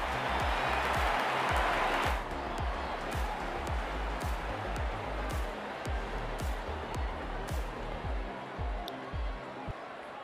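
Stadium crowd in the Real Cricket 22 video game roars with steady, dense cheering and scattered claps as the openers walk out, a loud continuous wash that swells early and stays constant throughout.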